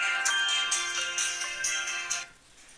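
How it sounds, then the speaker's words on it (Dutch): A telephone ringtone plays an incoming-call melody, loud and close, with bright repeating tones that fade toward the end, no voices. "Even geduld, ik krijg telefoon."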